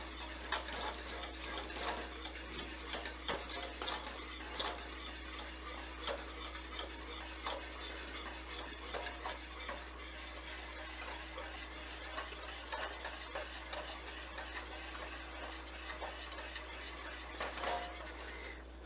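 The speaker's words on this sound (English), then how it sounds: "you do have to stand here for a good 10, 15 minutes stirring it" Polenta being stirred in a pot, a steady scraping, rasping swirl against the pan that continues without a break under a constant low hum, with no one speaking.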